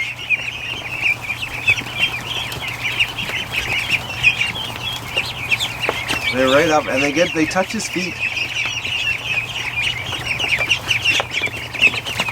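Ducks quack and chatter nearby in an ongoing flurry, with a louder burst of calls partway through, while someone talks over them.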